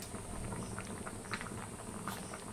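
A tamarind sour dish simmers with added jaggery, a soft, close bubbling and popping of thick liquid that stays faint and steady.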